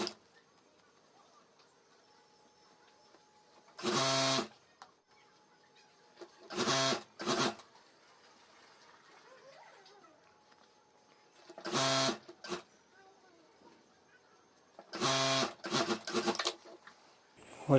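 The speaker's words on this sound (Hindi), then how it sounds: "तो इस तरह से हमें फैब्रिक रखकर यहाँ सिलाई कर देनी है" A sewing machine stitches fabric onto a zip strip for a homemade school bag, running in four separate loud bursts of rapid whirring with quiet pauses between them.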